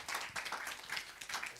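Short burst of clapping from an audience at an EU values international conference roundtable, uneven and patchy, rising and falling in a few quick waves.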